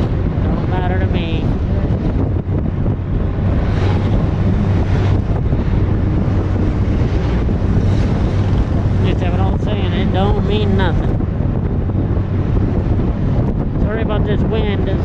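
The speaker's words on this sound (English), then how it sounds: "this wind is very, very windy right now." Strong wind buffets the microphone on a bus trip, a constant loud roaring rumble with voices talking underneath throughout.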